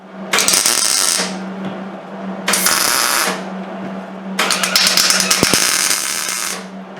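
A socket ratchet wrench works on bolts in a Triumph TR4 wing, three loud close bursts of rapid ratcheting separated by short pauses, the last one longest.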